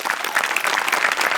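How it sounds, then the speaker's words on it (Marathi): Dense, steady audience applause with continuous clapping throughout, loud and close, at a Marathi comedy sketch show on stage. "सगळ्यात आधी टाळ्या वाजल्या पाहिजेत मोठ्यांसाठी आणि अभिजित पवारसाठी"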